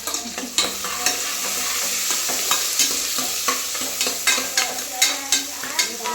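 Turmeric frying in a pan for a fish sambar, a soft steady sizzle with a spatula stirring and scraping in a loose rhythm of sharp clicks, close by and with no voices.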